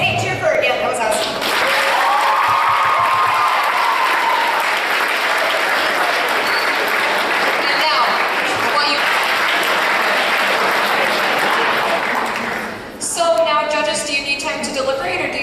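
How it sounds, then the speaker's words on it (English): An audience at a school talent show applauds and cheers in a long, dense wave lasting over ten seconds. A person speaks briefly at the start, and voices return as the applause fades near the end. "Hey, cheer for her again."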